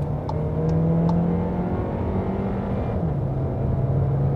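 A Skoda Kodiaq 1.4 TSI SUV accelerates from 60 to 90 km/h, heard from inside as a steady engine drone and road hum that rises in pitch, with a brief dip like a downshift partway through.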